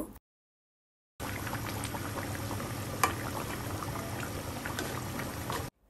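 Katla fish curry with cauliflower and potato simmering in a pot, a soft, even bubbling hiss that runs steadily after a short silence, with one small clink partway through.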